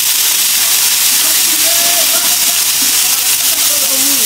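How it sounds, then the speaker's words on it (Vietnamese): Steady close sizzling hiss of nhộng (insect larvae) being stir-fried in a pan, a Central Highlands Vietnamese dish, continuous and loud, with faint tonal squeaks and a voice speaking over it. "Trong khi mình đang xào lên cho chín"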